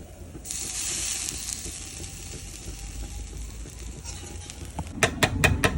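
Sliced bread hits hot mustard oil in a pan with a sudden bright sizzle that settles into steady frying hiss, then ends in a burst of quick clattering scrapes as the slices are moved around.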